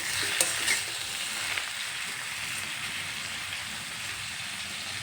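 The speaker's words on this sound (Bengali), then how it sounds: "উচ্ছে দিয়ে আবার একটু নেড়ে চেড়ে নেব" Bitter gourd fries in a pan with a steady, rain-like sizzle, with a couple of soft utensil taps and stirring clicks early on, then an even hiss, fairly quiet and without speech.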